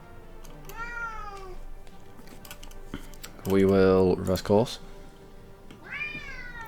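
A house cat meows several times indoors: a short faint meow early, then a loud drawn-out meow with a following yowl, and another meow near the end, over keyboard typing with someone speaking briefly.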